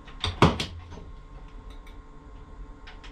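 Doors of a Munich S-Bahn train shut before departure with a couple of close thuds and a short clunk early on, then a low hum of the idling train and faint knocks.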